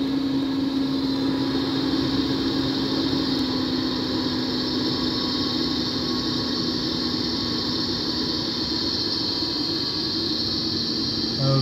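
A 2 HP 440 V three-phase induction motor runs on a WEG CFW300 1 HP 240 V drive while being slowly ramped down, giving a continuous electric whine and hum, steady and moderately loud for the whole stretch.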